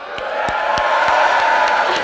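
A crowd at a Segovia welcome event for a new university class cheers and whoops continuously, with scattered sharp claps and thumps punctuating the roar at a steady rhythm.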